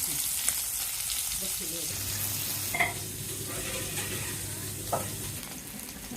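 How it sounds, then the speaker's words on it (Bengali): Koi fish frying in hot oil hiss with a steady, dense sizzle, close and continuous, while a spatula occasionally scrapes the pan. "তেল গরম হয়ে গেছে মাছ দিয়ে দিলাম এইগুলো কই মাছ"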